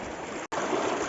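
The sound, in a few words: flowing stream water at Valparai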